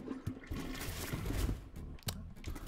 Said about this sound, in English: I need to be sure to flush the toilet on this one.